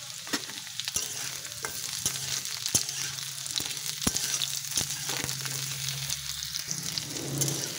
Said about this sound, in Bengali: ঝিঙে আলু শিম ভাজা হয়ে গেছে।